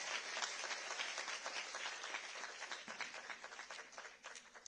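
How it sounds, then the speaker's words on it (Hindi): An audience applauds para-Olympic athletes at a public event, a dense sustained wash of many hands clapping at moderate distance that carries steadily throughout. "एक बार इन सभी के लिए जोरदार तालियों से इनका स्वागत और अभिनंदन करिए"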